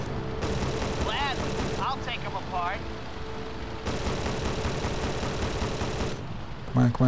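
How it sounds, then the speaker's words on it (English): Enemy gunfire in the Wii flight combat game Blazing Angels, steady rattling bursts over a constant aircraft engine drone, with someone talking over it. "this guy's shooting me"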